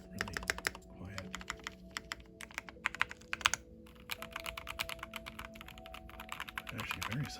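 Close, steady typing on a Keychron C1 Pro tenkeyless keyboard with thick keycaps, a quick run of soft, dampened key clicks with uneven rhythm and occasional louder presses.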